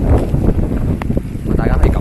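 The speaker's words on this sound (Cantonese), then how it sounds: "咁大家可以感受啦，遠處嘅風聲啦，同埋近處嘅風聲啦" Strong wind gusts buffet the microphone outdoors by Sau Mau Ping shopping centre during a storm, a loud, rough roar near and far that fills the whole moment.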